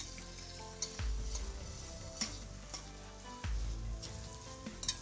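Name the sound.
sautéing onions for salmon puttu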